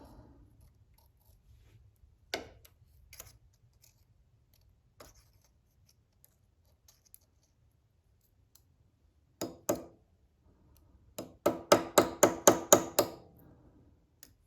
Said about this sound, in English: See if a hammer will help.